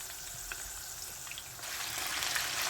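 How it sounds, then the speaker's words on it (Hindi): Aubergines fry in hot oil with a soft, continuous sizzle and scattered crackles and pops, faint and close, growing slightly louder toward the end. "इसमें बैंगन फ्राई हो गए हैं"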